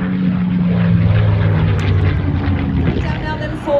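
A propeller warbird at the Warbirds Over Wanaka air show, in formation before a barrel roll, drones loud and close with a steady engine roar that swells and fades slightly; a commentator talks over it.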